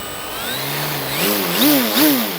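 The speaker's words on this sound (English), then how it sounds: "Now, holding that prop away from me, Motor is armed." A small electric motor on an FMS Ranger 1220 mm RC airplane spins up its propeller, a steady whine that rises in pitch and swells in a few surges, close by with no talking.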